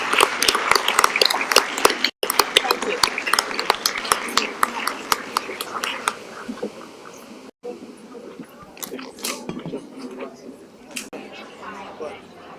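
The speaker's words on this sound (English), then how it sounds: "one more round of applause for our outgoing board members" A round of applause from attendees at a school board of education meeting for outgoing board members, scattered claps thinning out over several seconds, with talking mixed in.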